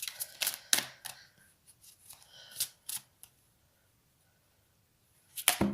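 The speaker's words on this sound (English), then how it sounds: "And I'm going to give it another quick shuffle." A deck of cards being shuffled by hand in quick crisp riffles, a flurry of sharp snaps and flutters, then a pause of near silence before another brief burst of shuffling at the end.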